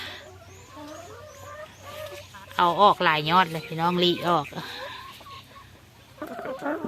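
Egg-laying hens cluck in a lively run of close, throaty calls, with a person speaking before and after.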